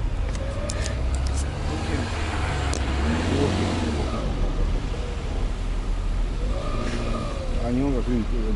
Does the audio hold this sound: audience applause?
no